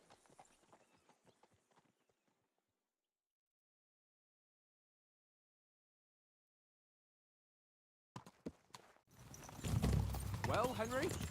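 A few hoof clip-clops from a horse in Kingdom Come Deliverance 2 sound faintly at first, then silence, then more hoofbeats and a loud burst of voices and game sound.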